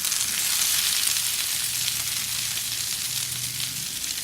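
Sliced peppers and onions sizzle steadily on a full-size 20 by 19 inch griddle pan, a close, continuous bright frying hiss with no break and no talk over it.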